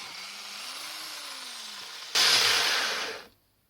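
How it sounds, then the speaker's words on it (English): A power drill bores a hole along a slot line in a cast iron lathe part, a steady whining grind that jumps to a louder, harsher cut near the end before stopping abruptly. "I shall first chain drill the slot."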